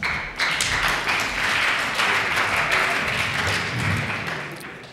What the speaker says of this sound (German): Das ist ein Applaus, viel Spaß.